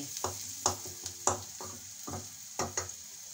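Chopped onion, garlic and green chili cook in a pan, giving a low sizzle punctuated by several distinct, sharp scraping strokes of a spatula in an uneven rhythm, close and fairly quiet.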